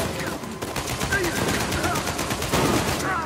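Rapid gunfire rattles on through a firefight in the action game Uncharted 4, a dense stream of shots with bursts of automatic fire, loud and continuous with some game noise mixed in.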